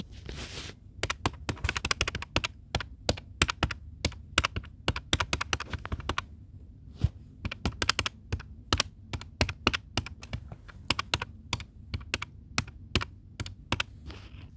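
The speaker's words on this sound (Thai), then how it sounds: "เราจะพิมพ์งานนะคะ" Typing on a computer keyboard, brisk irregular key clicks in close, crisp bursts with a short pause in the middle before the tapping resumes.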